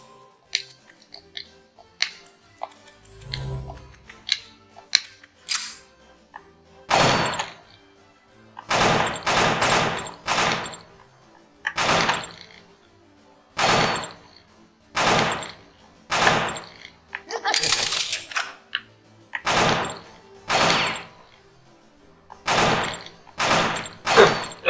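Gunfire in the video game Killer 7, a series of sharp, loud shots in irregular bursts, sometimes single and sometimes doubled, separated by short quiet gaps over about twenty seconds.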